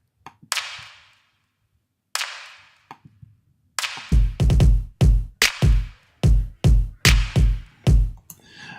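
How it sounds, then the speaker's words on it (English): Reverb-tailed clap samples following the snare in an Ableton Live remake of a song. A few sparse claps come first, then a tight, regular run of loud, crisp hits. "I have some claps, and these claps are basically following the snare"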